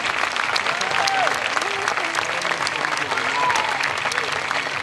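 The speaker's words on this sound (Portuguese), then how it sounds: "Uma salva de palmas, conseguiram chegar até aqui." An audience applauds at a final fashion show of a model tour, a dense patter of clapping heard at moderate distance, with faint voices and music murmuring underneath.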